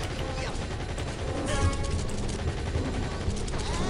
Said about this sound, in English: Oh god, please stop shooting me!